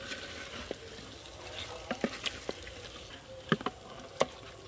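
Chicken and previously fried potatoes sautéing together in a pan for chicken biryani, a steady soft sizzle with scattered crackles and small pops close up, no talking.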